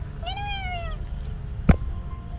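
A cat gives a single clear rising-falling meow, followed by a sharp knock or thump over low background rumble.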